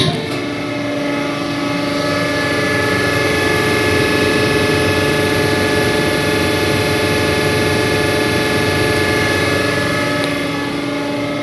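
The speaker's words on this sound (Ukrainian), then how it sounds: "Включаємо гідростанцію." The hydraulic station of a 6R11F3 CNC milling machine runs with a loud, steady whine and hum, a constant droning tone that holds unchanged throughout with no voices over it.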